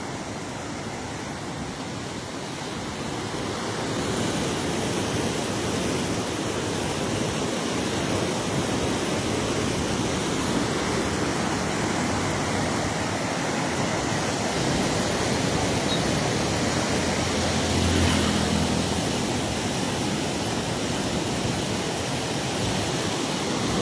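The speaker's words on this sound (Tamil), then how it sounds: "அதுக்கே தண்ணி எப்படி போகுது பாருங்கள்" Kaveri river water rushing through the opened shutters of the Mayanur check dam, a steady, loud, broadband roar that holds unbroken throughout with no voices.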